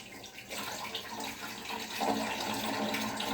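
Running tap water splashing in a kitchen sink while something is rinsed underneath, a steady close rushing flow that swells a little near the end, no talk.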